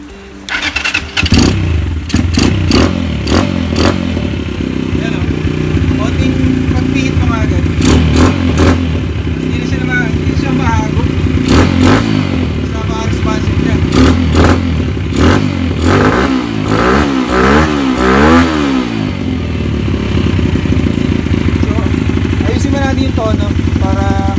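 A Rusi KRY200 motorcycle with a Nibbi 28mm PE carburetor, freshly tuned, idles and revs repeatedly, with sharp bursts of throttle rising and falling, loud and close, with some talking mixed in.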